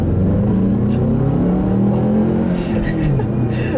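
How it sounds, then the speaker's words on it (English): A Ford Mustang accelerates hard in second gear, its engine note rising in a steady, loud, close drone with a brief lift near the end, alone without talk. "I'll leave you guys with a nice little acceleration here"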